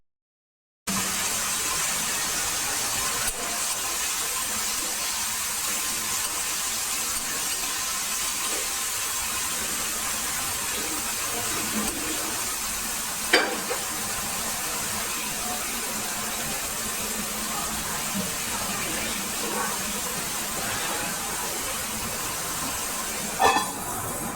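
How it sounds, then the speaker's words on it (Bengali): Bitter gourd frying in a pan in a home kitchen at night, a steady broadband sizzle running continuously with a couple of brief sharp clinks, no talk. "এদিকে দেখো উচ্ছেটা এখন ভেজে নিচ্ছি"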